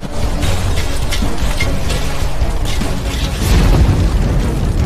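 An alchemy cauldron blows up in a Battle Through the Heavens donghua: a loud, sustained booming explosion with rumbling bursts that swell again toward the end, no voices.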